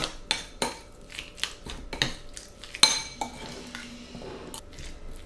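A utensil stirs an avocado and egg sandwich mixture in a bowl, giving close, irregular clinks and scrapes against the dish with short pauses between strokes and no talking.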